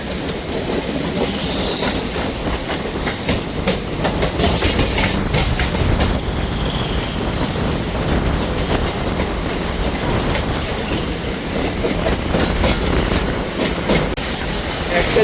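A Howrah–Bardhaman local train rumbles past close by, loud and continuous, with rhythmic clickety-clack of wheels over rail joints and occasional squealing.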